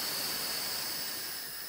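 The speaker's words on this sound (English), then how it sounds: "run some more steam through after you froth" A Gaggia or Saeco espresso machine's steam wand blows a steady, loud hiss of steam after frothing, a close, continuous rush with no voices.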